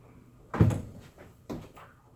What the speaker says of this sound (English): So if we open up the door, it says open.